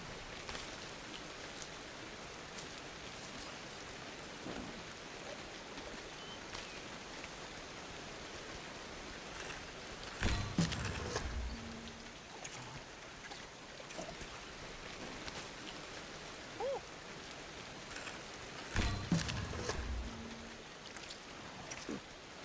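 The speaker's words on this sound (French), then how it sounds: "là du coup il pleut" Rain falls steadily outdoors in a soft, continuous patter, fairly faint, with a couple of louder rustling bursts of movement partway through and no talking.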